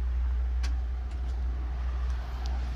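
An old Japanese welder and generator set, about 5 kVA with 110V output, runs with a steady, loud low engine rumble and a few faint clicks and taps on top.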